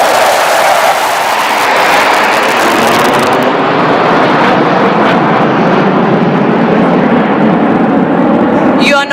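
Sukhoi 30 MKI military jet in a low-level aerobatic display at an Indian Air Force air show on Chennai's Marina beach, a loud, sustained roar as it passes overhead.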